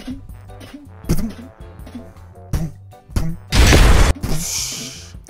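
A voice mimics a Call of Duty RPG rocket launcher, building through a few short mouthed bursts to a loud, dense whooshing blast near the end, then a fading hiss, with no other talk.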